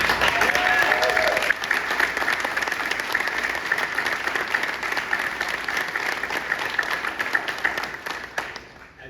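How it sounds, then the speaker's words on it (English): Sustained applause from a room of hospital staff and officials at a funding announcement for the new Brooks Memorial Hospital, steady dense clapping filling the whole span and tapering off at the end, with a brief voice near the start. "You deserve a round of applause"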